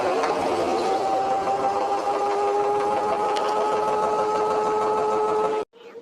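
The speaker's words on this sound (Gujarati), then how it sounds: "આ વોશિંગ મશીન અવાજ તો જો કરે છે" A washing machine running with an odd, steady mechanical whirring and droning hum, loud and close, continuing evenly for several seconds before cutting off abruptly near the end.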